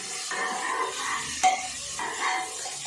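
Ginger garlic paste and mint sautéing in a pan for biryani: a steady, close sizzle and hiss of frying, with soft stirring scrapes and one sharp clink of a utensil against the pan.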